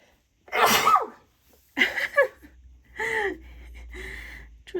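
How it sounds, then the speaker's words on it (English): A person with hay fever sneezes with a sharp burst, followed by a few short, breathy sniffs and vocal sounds. "Oh, I'm gonna sneeze."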